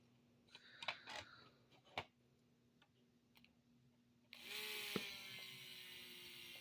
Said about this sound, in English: let's see if I can run the pump using a 9-volt battery